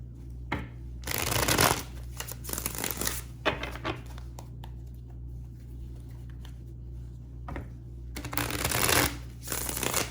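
Tarot cards shuffled in several loud riffling bursts separated by quieter handling, with a steady low hum underneath.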